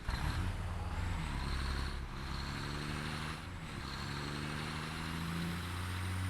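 Heavy truck driving in the Satisfactory video game, with a steady low engine rumble and rolling noise, close and continuous, rising slightly in pitch as it strains along.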